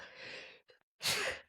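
A single sharp sneeze bursts out loud and close after a quick intake of breath, with no talk over it.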